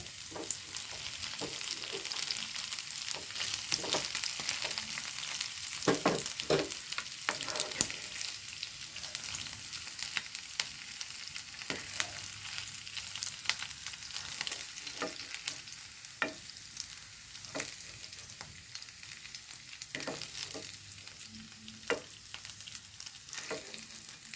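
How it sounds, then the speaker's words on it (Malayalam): Shrimp fry in coconut oil with a constant bright sizzle and crackle, broken by intermittent spatula scrapes and knocks against the pan as pieces are stirred and lifted out, close but fairly quiet, with no talk throughout. "നമുക്ക് ചെമ്മീൻ വറുത്തത് കോരിയെടുക്കാം കേട്ടോ"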